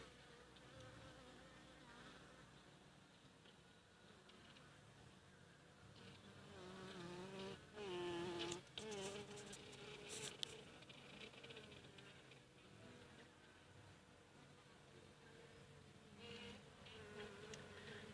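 Steady buzzing of many Italian Cordovan honeybees on a hive frame around their queen, a dense continuous hum with brief louder swells as individual bees pass close.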